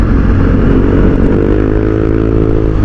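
A Honda Click 125i scooter fitted with an MT8 racing exhaust pipe revs loudly and close, its engine note rising and holding with a rough, throaty drone for the whole stretch.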